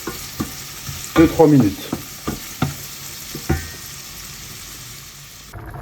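Food for macaroni with bacon sautéing gently in a pan, a soft steady sizzle broken by several close stirring scrapes and knocks, with a brief spoken phrase partway through.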